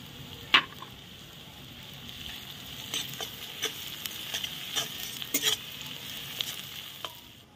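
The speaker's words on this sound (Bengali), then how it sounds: "পেঁয়াজটা লাল করে ভেজে নিব, হালকা লাল করব।" Onions frying in oil until lightly browned, a soft steady sizzle with intermittent scraping and tapping from stirring, close up and without talk.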